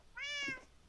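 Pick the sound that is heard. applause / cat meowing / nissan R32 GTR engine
cat meowing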